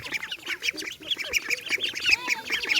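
Ducklings and ducks in a Sundarbans village yard, a busy overlapping chorus of close, rapid quacks and squawks with no pauses.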